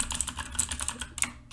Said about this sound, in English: Give people the sound of your keyboard